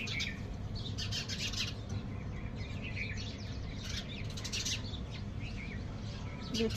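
Mynas chatter and call from a perch outside a house, with sparrows nearby. Faint, scattered chirps rise over a steady low background hum, with no one talking.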